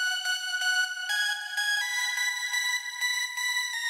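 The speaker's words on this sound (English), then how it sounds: "The Nexus, king of bass, it's a buzzy lead." Buzzy synth lead from a Nexus patch called 'king of bass' in a production, playing a bright, steady melodic line with rhythmic pulsing note attacks, loud and alone.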